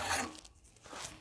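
A hand file rasps burrs off a sheet metal edge in two quiet, short strokes, one at the start and one near the end, separated by a brief pause.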